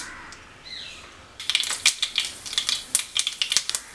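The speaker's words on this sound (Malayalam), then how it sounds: "കടുക് പൊട്ട് വന്നിട്ടുണ്ട്" After a quiet start, sharp little pops burst out in a quick, irregular series as mustard seeds spatter and crackle in hot oil.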